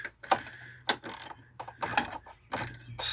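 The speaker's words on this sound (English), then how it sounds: "we're going to use about a 4-inch extension and a socket" Ratcheting socket wrench on a roughly four-inch extension snugging up a nut, giving short bursts of close, quiet clicking with small metallic knocks between strokes.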